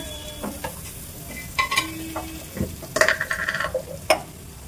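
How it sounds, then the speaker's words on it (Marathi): Paneer frying in a pan with chilli, turmeric, salt and masala: a soft background sizzle with scattered utensil scrapes and clinks against the pan, close by. "तिखट, हळद, मीठ आणि मसाला टाकून मी त्यांना पॅनमध्ये आता छानपैकी असं फ्राय करून घेते"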